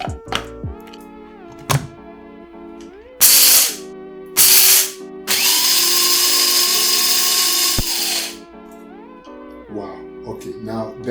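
A Bosch electric coffee grinder grinds coffee in two short whirring bursts followed by a longer, steady run of a few seconds, loud and close, over background music.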